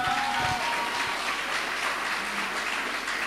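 A church congregation claps for a dense, sustained round of applause that fills the room evenly from start to finish, with no voices over it.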